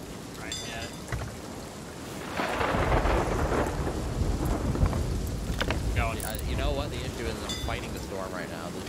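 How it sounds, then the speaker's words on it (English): Rain falls in the Sea of Thieves video game, a dense steady hiss that swells midway with rumbling weight, while voices talk over it. "That's rain right now."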